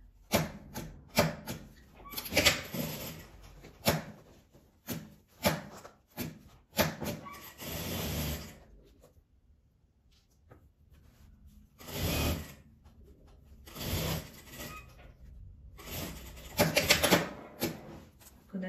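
A sewing machine stitches fabric for a zippered pouch in bursts of rapid mechanical clatter, stopping and restarting several times, loud and close with short pauses between runs.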